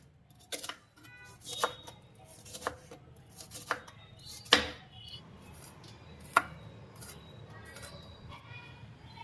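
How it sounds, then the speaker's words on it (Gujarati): Onions are finely chopped with a knife on a board, giving sharp, irregular thuds that are close and moderately loud over a quiet kitchen background. "કાંદાને આપણે પહેલાં ઝીણી ઝીણી સુધાર નાખીએ"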